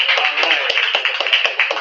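An engaged open mic crowd claps and cheers across the whole stretch, with a dense, steady roar of voices and scattered sharp claps, loud and close.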